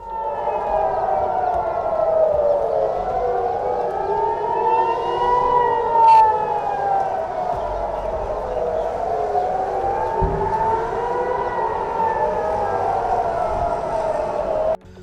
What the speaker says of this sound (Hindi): वैसे ही वहां हवाई हमलों के सायरन बजने लगते हैं